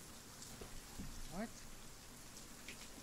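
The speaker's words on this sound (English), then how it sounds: "Dude, this rain's getting pretty heavy." Heavy rain in the ARMA 3 video game, a steady dense hiss of falling drops, with a voice briefly talking quietly over it.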